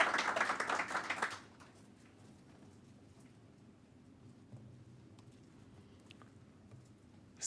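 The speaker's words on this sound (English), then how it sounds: "Give them a big, big round of applause" Audience applause at a conference, a brief dense burst of clapping that fades quickly into quiet room noise.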